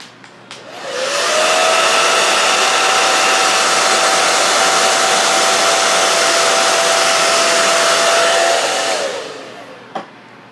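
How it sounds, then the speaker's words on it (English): A handheld hair dryer held in front of a leg runs steadily and loudly for about eight seconds with a constant whooshing airflow and motor whine, then powers down to near silence. "Just holding a blow dryer in front of my leg."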